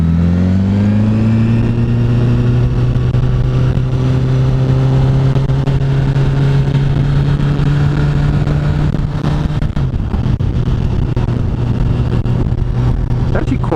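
A 2016 Honda CBR1000RR Fireblade SP engine drones steadily while riding, its pitch rising as it accelerates and then holding a constant loud hum with wind rush, continuous and close throughout.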